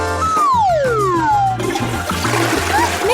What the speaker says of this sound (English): why would you flush it?